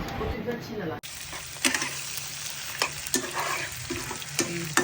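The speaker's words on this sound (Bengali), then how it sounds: "চিংড়ি মাছটা এখানে আদা রসুন লবণ একটু জিরা দিয়ে একটু মাখিয়ে এটা ভেজে নিব" Shrimp marinated with ginger, garlic, salt and cumin fries in a pan with a steady, dense sizzle, punctuated by several soft spatula scrapes, heard nearby at moderate volume.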